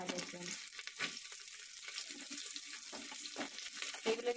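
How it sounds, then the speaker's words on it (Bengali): Chopped ginger, onion and whole garlic frying in leftover oil inside a pressure cooker, a fairly quiet hiss broken by frequent stirring knocks and clatters. "এই আদা কুচানো পেঁয়াজ কুচানো আর রসুন ওই যে রসুন এই যে গোটা এগুলো সব দিয়ে দিলাম ভাজার জন্য"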